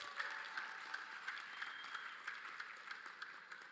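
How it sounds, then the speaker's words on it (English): Quiet crowd applause welcoming a speaker at a public forum on climate-resilient agriculture in Zambia, steady distant clapping with a few sharper claps standing out, continuing evenly throughout. "Can we have a round of applause?"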